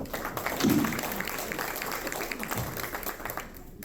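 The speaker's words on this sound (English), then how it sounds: "Please give him a round of applause." Audience applause at a county commissioner candidate debate in Bradenton, a moderate, steady patter of clapping lasting a few seconds, mixed with some room noise and a faint voice, then tapering off.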